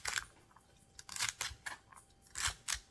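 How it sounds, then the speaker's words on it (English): Food cut into small pieces on a board while making a creamy pulled pork sandwich, several crisp, separate cutting crunches spread over a few seconds, close and fairly quiet. "Try to cut it up pretty small."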